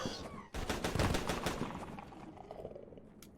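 Boom shots weapon fired in the video game Crashland, a rapid burst of loud punchy blasts that fade into a rumbling decay, with no talking.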